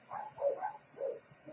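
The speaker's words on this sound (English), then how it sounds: "So I'm sorry about the barking in the background." Dogs bark a few times in the background, faint and somewhat muffled, in a short, uneven burst of yaps.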